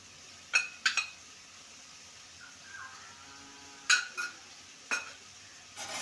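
Ginger-garlic paste is stirred in a pan as part of a fish roe dish, with a soft sizzle beneath several sharp clinks of a spoon on metal spread through the clip, close and moderately loud, with no talk.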